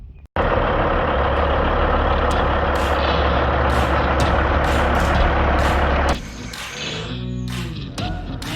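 A 500-horsepower Caterpillar vacuum truck, 40 feet long and 13.5 feet tall, roars loud and steady at close range in a residential asphalt driveway, then its engine note drops and shifts while air hisses and a reversing beep sounds.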